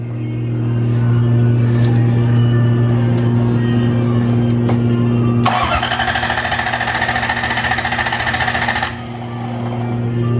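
A Lexus LS 400 engine, rebuilt for drifting and with one coil pack unplugged, cranks loudly for about three seconds on a start attempt over a steady mechanical hum. It then stops, and there are a few faint clicks.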